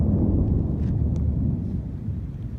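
Low, sustained rumble of thunder from a powerful monsoon thunderstorm in Las Vegas, Nevada, fairly loud and steady, mixed with wind noise and a few faint higher crackles.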